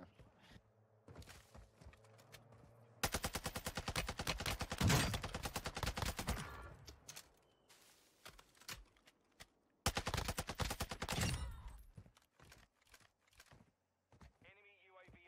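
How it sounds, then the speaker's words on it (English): Video game gunfire in Warzone: bursts of rapid automatic fire, one long run lasting several seconds and a second shorter burst, with a few isolated shots and game sounds between them and talk in the quiet gaps. "they're shooting at me"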